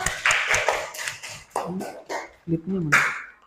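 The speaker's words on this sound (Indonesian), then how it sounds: "Tepuk tangan untuk kita semua" Schoolchildren in a classroom clap together during a lesson on plants, the quick rhythmic handclaps mixed with voices at first, then giving way to speech.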